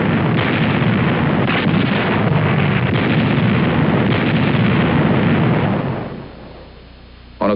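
German artillery fires near Moscow in wartime archival recording, a dense loud rumbling roar of blasts that persists for several seconds before dropping away, followed by a brief renewed burst.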